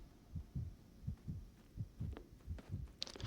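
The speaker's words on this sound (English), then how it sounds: "why am I hearing my heartbeat?" Heartbeat effect in the video game Duskfade, low muffled double thumps repeating at a steady pulse, fairly quiet and alone.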